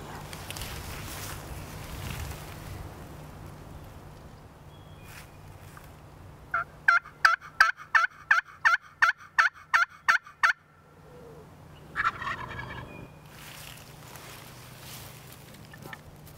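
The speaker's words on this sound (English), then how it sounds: "This bird over here to our left, he keeps gobbling." A wild turkey gobbles in answer to a hunter's calls, a quick rattling series of loud, close gobbles in the outdoors, followed by a second, fainter burst. Quiet rustling and movement come before and after.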